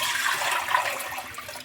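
Water poured from a vessel into a cooking pot to boil noodles in a home kitchen, a steady splashing rush lasting under two seconds, close and fairly loud with no talking.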